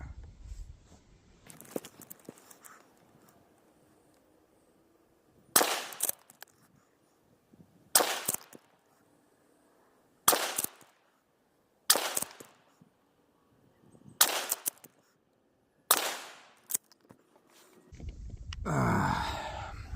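A scoped shotgun fires Foster-type slugs at an outdoor target in a light breeze: about seven sharp, loud blasts spaced a couple of seconds apart, with quiet gaps between them and a rustling burst at the end.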